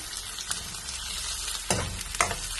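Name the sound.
capsicum and green chillies frying for chilli fish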